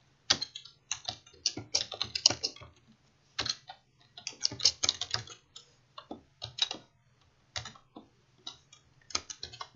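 Someone types text on a computer keyboard in irregular bursts of quick, soft clicks and taps with brief pauses, close by and alone over a faint low hum.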